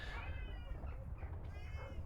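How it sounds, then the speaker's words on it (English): A pet cat close by gives two or three soft, drawn-out meows in a quiet room, faint and intimate against a low background hum. "My cat is next to me and she's doing her thing."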